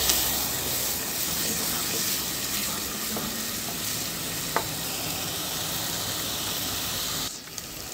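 Garlic and onion sautéing in a pan with butter, a steady loud sizzle and hiss running throughout with occasional stirring clicks near the end.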